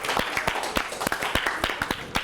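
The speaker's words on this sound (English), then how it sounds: "Give them a round of applause, please." An audience at a teacher-of-the-year event gives a short, sparse round of applause, individual claps standing out distinctly rather than merging into a roar.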